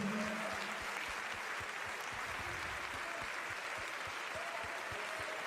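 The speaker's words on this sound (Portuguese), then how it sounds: "Vamos aplaudir." A church congregation at a Sunday service applauds after a sermon, a faint, distant wash of clapping with a low rhythmic thumping underneath and a brief vocal tone near the start.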